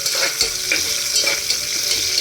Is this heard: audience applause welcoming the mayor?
no